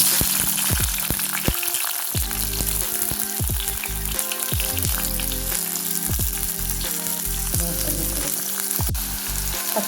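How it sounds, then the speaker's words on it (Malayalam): Shallots sizzle loudly in hot oil with crackling mustard seeds and fenugreek for a Kerala prawn curry, a steady close frying hiss punctuated by sharp pops and spatters throughout. "അപ്പം നമുക്ക് ഇനി അടുത്തത് ചുവന്നുള്ളി ഇട്ട് കൊടുക്കാം"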